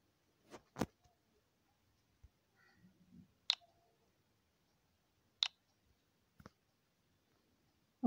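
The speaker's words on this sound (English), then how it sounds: "We are going to type here." Scattered clicks on a device keyboard or screen while typing, about six sharp isolated taps spaced irregularly over several seconds, close and quiet with near silence between them.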